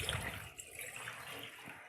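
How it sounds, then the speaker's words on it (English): Water pours rapidly from the hose of a 35 watt aquarium pump during a fish tank water change, a soft continuous gushing and splashing that stays faint and steady throughout, with no voices. "Water is coming very fast."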